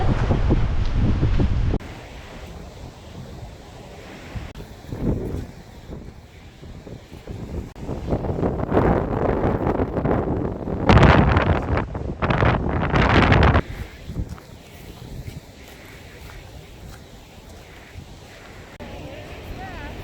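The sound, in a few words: wind blowing outdoors in San Francisco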